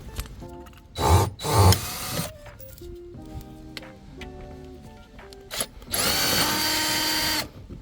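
Bolts come loose on a Mercedes under an 8mm socket, with short bursts of power-tool whirring, a long final run, and ratchety mechanical clicks between them, loud and close.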